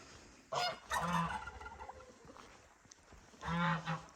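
A few ducks on a farm give loud, close bursts of harsh honking calls, one cluster early and another near the end, with quieter rustling and faint calls in between and no talking.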